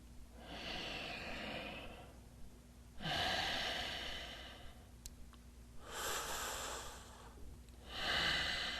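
Deep, slow breaths sound close to the microphone during a seated yoga twist: four long airy exhales and inhales, each lasting a couple of seconds and separated by short quiet gaps over a faint hum.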